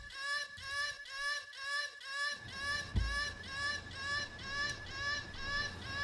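A chopped, looped vocal sample in a dance-music breakdown: a short sung syllable repeating in a steady pulsing rhythm, with a low rumbling bed entering midway and a single thump, moderately quiet with no talking.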